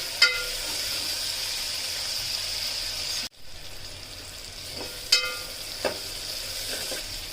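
Chopped tomatoes for Telangana-style boti curry cooking in a pan, giving a soft steady sizzle broken by a few clinks of a utensil being stirred, fairly quiet with no speech.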